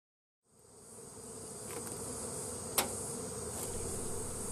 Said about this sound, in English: It will take until dusk for all the bees to orientate back to this particular hive.